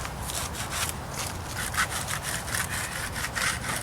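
Scraping grime off an 1884 marble headstone, a faint, steady rhythm of rough repeated strokes close by, with no talk.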